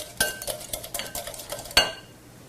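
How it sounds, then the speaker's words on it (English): Quiche egg mixture being stirred briskly in a bowl, a rapid run of light utensil clinks and scrapes closing with one sharper knock before it stops. "give this one more stir."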